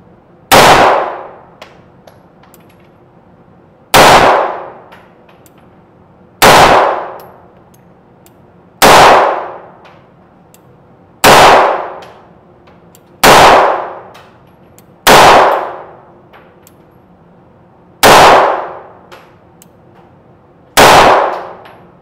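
A Taurus PT58 SS compact .380 pistol fires a string of evenly spaced, loud, sharp shots at a yellow steel target seven metres away, each report followed by a brief ringing metallic clang, with no talking.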